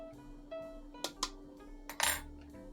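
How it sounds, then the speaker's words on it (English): Cooked wheat berries, softened in a pressure cooker, tipped into a breakfast bowl with a few close clinks and light clatters against the dish over a quiet background hum. "Now we're going to add some wheat berries"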